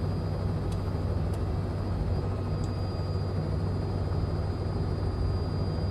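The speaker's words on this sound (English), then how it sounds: "we're going to hover taxi over towards the main runway here at Wickenby" Robinson R66 helicopter hover taxiing at Wickenby in a flight simulator, a steady loud broadband rotor and turbine roar with a faint high whine, continuous and unbroken throughout, with no talk over it.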